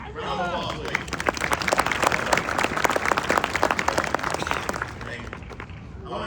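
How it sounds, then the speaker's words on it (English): A crowd gives sustained applause at a Marine Corps recruit graduation ceremony at MCRD Parris Island, with dense, loud clapping that swells and holds for several seconds. Voices murmur underneath. "Round of applause, please."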